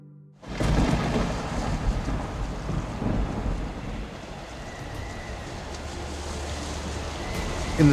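A storm effect for a fantasy audio drama set in stormy skies: thunder rolls in heavily and deep rain keeps up a steady wash, loud and enveloping with no voices.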